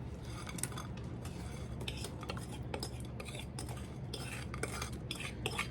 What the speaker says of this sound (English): here's our blackberries. We're gonna just dump these right into our pan.